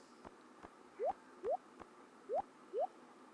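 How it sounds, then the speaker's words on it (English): Four short rising watering splashes from the Stardew Valley video game, evenly spaced and fairly quiet over soft game background ticks, with no talking. "Water all our plants."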